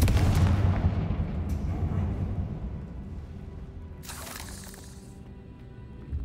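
A Confringo blasting spell explodes in a Harry Potter video game: a loud, close, booming blast that rolls out and slowly fades, with a brief sharp crackle partway through.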